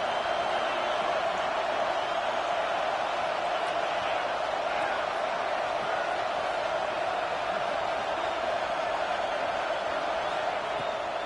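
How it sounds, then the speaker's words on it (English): A dense, roaring football stadium crowd at a #9 Georgia vs #6 LSU game, making sustained noise on third down, loud and unbroken throughout with no lull. "This dog crowd is off the leash, and they are coming after them, bringing noise on 3rd down."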